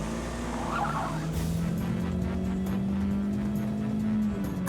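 A cartoon car drives on without stopping, its steady engine hum droning loud and continuous with a faint rising whine partway through.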